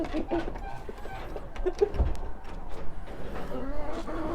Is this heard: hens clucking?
yes